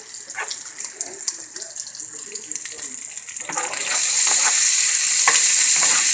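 Bacon fries in a pan, a soft crackle at first that swells into a steady, loud, close hiss midway through, with light scraping along the way.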